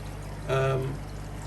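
Water pours briefly into an aquarium during a water change, a short splashing gush lasting about half a second that stands clear of a steady background hum.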